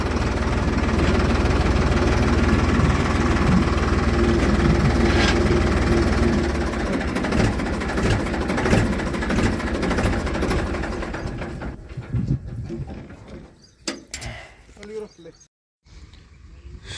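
A steady, rumbling engine drones continuously up close, gradually thinning out with some rattles and knocks toward the end.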